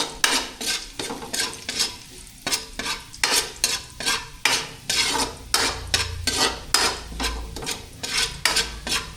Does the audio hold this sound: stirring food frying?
yes